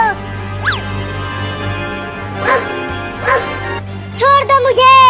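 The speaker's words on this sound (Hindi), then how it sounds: "अरे बाप रे, ये कुत्ता तो बहुत ही बड़ा और खतरनाक है।" A big dog barks in a few deep, separate woofs, then breaks into a louder burst of yelping, whining barks near the end, close and prominent.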